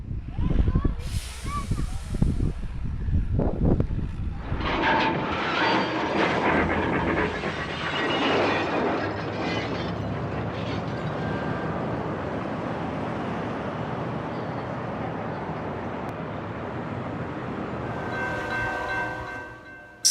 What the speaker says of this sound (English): 10 massive train wagons derail and crash violently off the tracks in November 2022